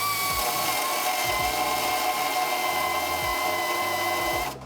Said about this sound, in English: let's get these guys off and see if we can grind this rib nut down.